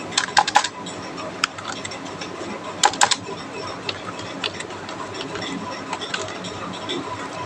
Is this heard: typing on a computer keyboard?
yes